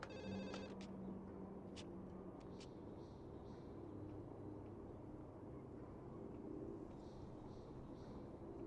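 A telephone rings in the video game Safe Mode: Urban Runner with a short bright electronic ring near the start, followed by a couple of fainter ring pulses over a steady low rumbling background.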